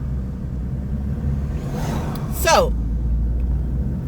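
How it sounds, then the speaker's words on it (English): A car passes from the opposite direction on a road, a brief rising-and-falling whoosh over the steady low rumble of the moving vehicle, with a short spoken word. "Hold on, this car is coming the other way."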